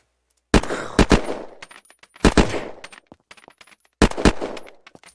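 Short bursts from a PDW in the survival game Unturned, a gun modeled on the Honey Badger: three loud, close two-to-three-round volleys with ringing tails and shell clinks, separated by silence.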